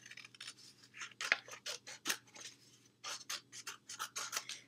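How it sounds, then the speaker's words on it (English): Scissors snip through a paper plate up close in a quiet room, a quick run of crisp, uneven cuts and rasping slices with short gaps between strokes. "I'm just going to cut halfway across my plate."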